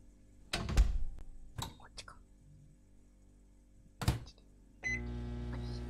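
A microwave-style oven starts up near the end with a steady hum and faint tonal whine, after a few soft thunks and clicks as a dessert is prepared and a voice talks quietly.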